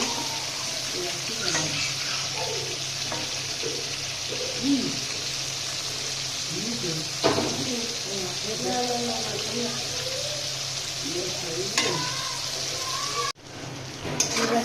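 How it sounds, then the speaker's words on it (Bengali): Steady sizzling of fish rubbed with turmeric and chili frying in hot oil runs throughout, with occasional clinks and stirring sounds and faint talking in the background. "মাছটা দিয়ে দিচ্ছি ভাজার জন্য।"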